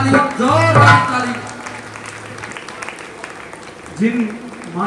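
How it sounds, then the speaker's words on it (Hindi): An audience at a temple jagran during a devotional fair breaks into applause, a sustained patter of many hands following a voice and continuing under further talk. "जोरदार ताली, जोरदार ताली।"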